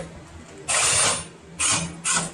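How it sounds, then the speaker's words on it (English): An impact driver with an extension rattles out screws from a Jeep dash in three short, loud mechanical bursts, each separated by brief quiet gaps. "Now that he has the right extension on the impact, he can take these out."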